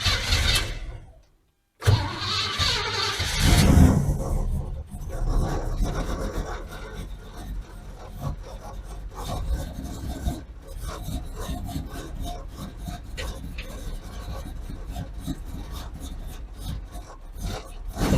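A 1981 Oldsmobile Delta 88 that had stalled cranks over again on a restart attempt, a long rasping churn from the starter after a brief silence, close and steady with no talking.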